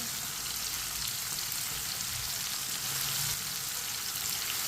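Green chillies frying in a pan for bhindi fry, a steady, close hiss of sizzling oil running evenly throughout with faint stirring underneath and no voices.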